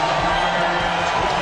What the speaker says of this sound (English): listen to this applause now as Kevin Martin makes his first appearance as a Houston Rocket